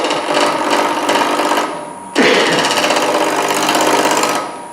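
A wood lathe spins a three-pointed bowl while an Ellsworth gouge cuts it, producing a steady rattling, chattering drone that breaks briefly, then resumes as the tool re-engages.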